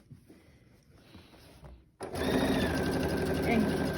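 Sewing machine stitching a fabric cell phone crossbody bag, starting abruptly after quiet handling noises and then running as a loud, steady, close mechanical whirr.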